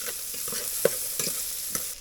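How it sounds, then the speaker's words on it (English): Bacon fries over a campfire for a stew, a steady soft sizzle broken by a few small spatters and scraping stirs, with no one talking. "So our first step is to get the bacon cooked."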